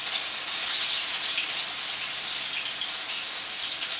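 Schnitzel meatballs frying in a pan give a steady, dense sizzle with fine crackling spatter, continuous and fairly close, with no voices.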